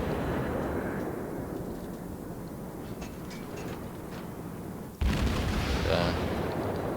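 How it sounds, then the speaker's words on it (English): Video game gunfire pours out in a dense, continuous stream of rapid shots with rumbling booms underneath, swelling into a louder, harsher burst near the end. "Pumping the shots out of my guns"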